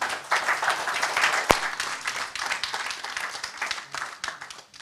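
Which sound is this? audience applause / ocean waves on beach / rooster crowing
audience applause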